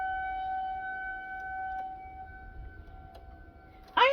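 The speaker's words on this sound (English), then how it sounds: "I am so sorry for the sirens going off in the background" A steady, sustained civil defense siren wail drones in the background, faint and distant, holding a constant pitch before a brief louder sound cuts in at the end.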